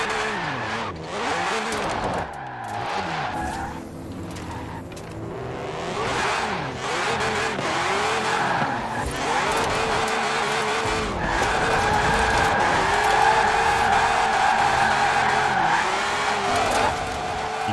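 BMW M3 with a stock engine drifting in Forza Horizon 4 during a drift contest, engine revving hard while tires skid and squeal continuously, loud and close throughout.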